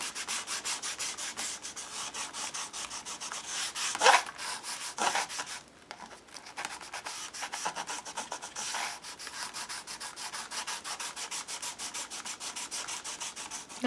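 Walnut stain is rubbed over a torn paper texture with quick, rhythmic scrubbing strokes, a steady close-up brushing rasp with brief pauses and a few louder scuffs.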